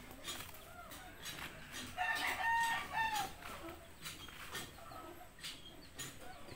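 A rooster crows once, clear and moderately close, amid the soft clucking of chickens on a rural province property in the Philippines, with faint outdoor background noise and no talking.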